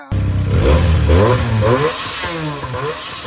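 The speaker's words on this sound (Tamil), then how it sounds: "பைக் வண்டி ஸ்டார்ட் பண்ண உடனே காதுல ஒன்று சத்தம் கேட்கும் பாருங்க" A Benelli TNT 300 inline two-cylinder motorcycle engine revs up loudly and close by, then settles into a rough, clattering idle with a couple of smaller blips.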